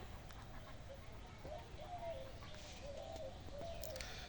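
Soft, far-off cooing from a dove in morning village woodland, several low notes in a loose rhythm under a constant quiet background wash.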